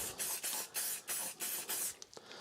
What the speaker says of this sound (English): this is releasing agent I'm using here. This is called Roebuck 5, RB5 silicone release spray.